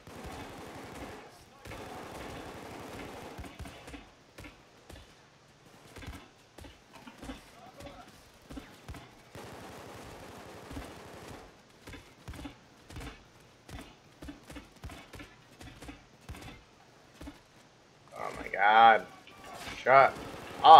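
Bursts of automatic gunfire from the heist video game Payday 2 crackle in rapid, uneven volleys, with sharp single shots and short pauses, ending in louder, denser firing as a player aims at snipers.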